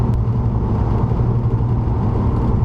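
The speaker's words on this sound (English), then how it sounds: "has the UUC catback, which I think is considered one of the most loud and desirable catbacks" A deep, rumbling Audi B5 S4 exhaust with a UUC aftermarket catback idles and revs steadily, loud and close, with no other sounds over it.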